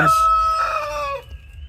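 Backyard chickens cluck and a rooster crows nearby, loud and overlapping, the crowing trailing off into quieter clucks.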